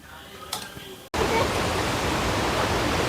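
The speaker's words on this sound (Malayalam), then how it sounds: "ഇതാണ് സീതാർകുണ്ട് വെള്ളച്ചാട്ടം" A steady, loud roar of rushing water fills the air after a brief quieter moment, from the Seetharkundu waterfall close by.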